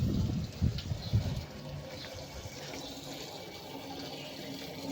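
Water runs from a tap into a container as drinking water is collected, starting with a brief burst of louder splashing and then settling into a softer, steady flow.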